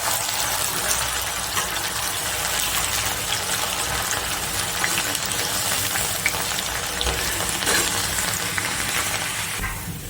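Dried moong dal frying in hot oil, a steady dense sizzle and bubbling crackle running continuously at close range with no voices.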